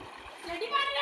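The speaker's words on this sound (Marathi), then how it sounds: "हे बघा कसं पाणी उडतं" Water splashes in a village well in one brief, close burst. A voice and other speech are heard over it.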